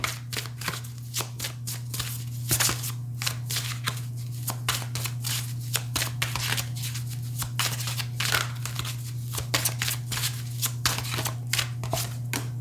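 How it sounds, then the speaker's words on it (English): Tarot cards are shuffled repeatedly up close, quick riffling snaps in irregular bursts over a low steady hum, with no voices. "then I'll shuffle on camera for this reading as well"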